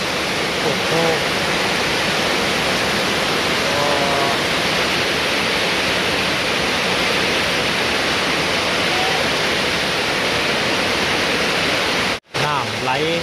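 Floodwater rushing past in a steady, loud, unbroken roar that fills the scene for the whole stretch, with someone talking over the flow.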